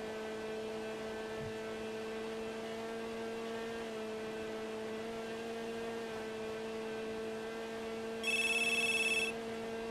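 Telephone ringing in a GTA roleplay video game, a short electronic ring burst near the end over a steady background hum and faint tones, heard once and alone.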